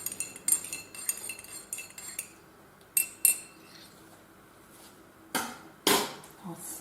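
A spoon stirs honey into a mug of tea, giving several sharp metallic clinks against the cup that are spread irregularly across a quiet room, with softer scraping between them.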